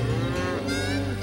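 A cow mooing, separated from its herd, gives one long, loud, close low call with a steady droning tone that holds for the whole moment.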